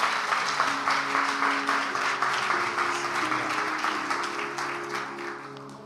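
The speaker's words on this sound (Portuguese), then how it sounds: "Gustavo, você pode aplaudir a vida pelo Gustavo?" A church congregation at a Sunday celebration service applauds in a sustained, dense wash of clapping that slowly fades, with a faint tonal hum underneath.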